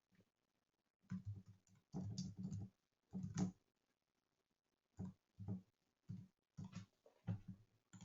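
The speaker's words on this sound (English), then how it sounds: "I'm going to type this into the chat box in case people want to click directly" Bursts of typing on a computer keyboard come in short irregular clusters separated by pauses. The keys sound soft and near, with no talking.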